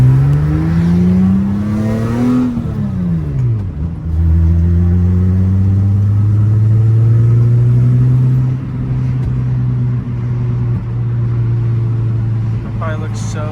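A cold-started Acura TL with a 3.7-litre engine swap, six-speed manual, Comptech exhaust and J-pipe revs up and climbs through gear changes, its exhaust drone loud and close, dipping at each shift before settling into a steady cruise.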